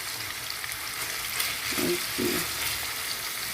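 Beef frying slowly in a pan on low heat, a steady close sizzle with a few soft stirring sounds, while someone briefly speaks.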